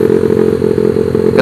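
Honda Sonic motorcycle engine with a worn clutch, throttle twisted hard so it revs with a loud, steady mid-pitched drone for about a second and a half, up close.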